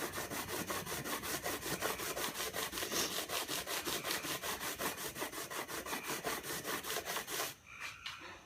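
Wood sanded by hand in long strokes against the grain, a rapid, even back-and-forth scratching rasp repeating steadily up close before stopping near the end.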